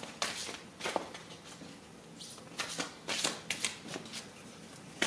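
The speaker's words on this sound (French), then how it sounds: "Alors je vais prendre une dernière carte du pouvoir de l'amour." An oracle love card is drawn and shuffled from a deck, a series of soft, close papery flicks and slides coming in quick bursts in a quiet room, with no talking.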